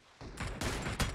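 M24 sniper rifle shots in PUBG ring out as a few quick, sharp reports in close succession, fairly faint, with no voices.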